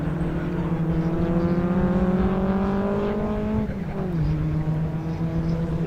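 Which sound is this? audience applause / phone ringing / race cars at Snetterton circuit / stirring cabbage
race cars at Snetterton circuit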